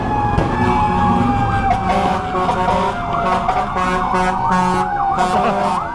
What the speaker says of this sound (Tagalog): Yung motor ni Kuya, kinabitan niya ng torotot.